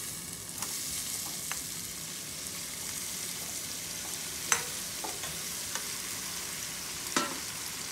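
Prawns frying for a Fiji-style curry, a soft steady sizzle in a pan with occasional clicks and scrapes of stirring, quiet and close with no talk.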